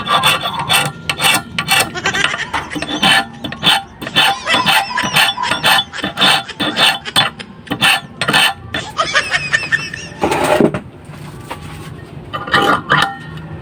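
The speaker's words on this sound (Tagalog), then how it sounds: "patulisin na natin itong dulo mga kabundok. Tulis at saka patalim." Hand file sharpening the tip of a handmade fishing hook, a loud, close, rhythmic rasping in quick strokes with brief pauses, a voice and a short laugh mixed in.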